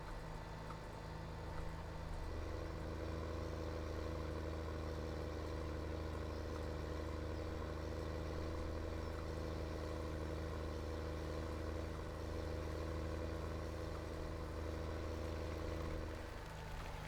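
A modded tractor hitched to a planter in Farming Simulator 17 drones at a steady, loud idle-like hum, its engine note unchanging throughout with no talking.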